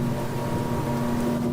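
A Jeanneau Merry Fisher 1095 Fly Series 2 family motorboat cruises under power, its engine giving a constant droning hum with a steady tonal whine over rushing water and wind.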